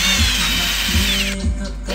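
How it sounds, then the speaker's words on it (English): A power drill bores into the grille of an R32 car, its steady motor whine running close and loud throughout, with brief pulses in the low end and no talking. "you actually have to drill into here and here, and then drill right in here so that it fits perfectly"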